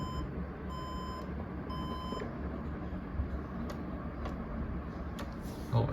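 A refurbished desktop computer with no hard drive powering up gives a few short, faint beeps in a steady repeating pattern over a low hum and room noise.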